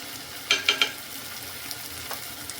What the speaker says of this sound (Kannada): ಇವಾಗ ಈ ಮಸಾಲೆಗಳನ್ನು ನೀಟಾಗೆ ಇದನ್ನು ಫ್ರೈ ಮಾಡ್ಕೊಳ್ಳೋಣ ಈ ಥರ